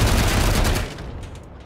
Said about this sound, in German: können wir nochmal schießen?